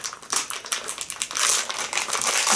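Crinkly plastic packaging is pulled and torn open by hand, with close, dense crackling and rustling that grows louder and more continuous toward the end.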